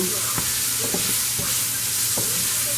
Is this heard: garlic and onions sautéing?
yes